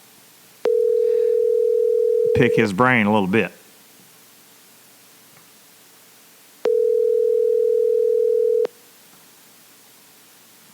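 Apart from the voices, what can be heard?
telephone call ringing tone while dialing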